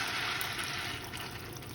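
Water left from boiling cauliflower and potatoes pours steadily into rice in a pressure cooker for plain kuska, a close, even rushing splash that lasts the whole short moment.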